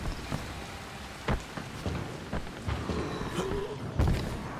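Steady game rain from Dying Light hisses as a continuous broadband wash, with scattered sharp taps and thuds breaking through at moderate level; no one speaks.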